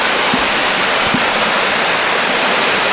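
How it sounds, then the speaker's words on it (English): A small waterfall on a forest reserve pours in a steady, close broadband rush of water, with two brief low thumps early on and no voices. "there's this cool little waterfall"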